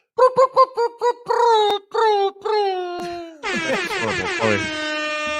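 A voice imitates an air horn with hooting, owl-like honks: several short blasts, then longer sustained tones ending in a loud, bright, wavering blare, close and alone.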